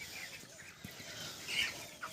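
Chickens in a poultry farm shed cluck softly and intermittently, distant and faint over a steady airy background of wind and rustling.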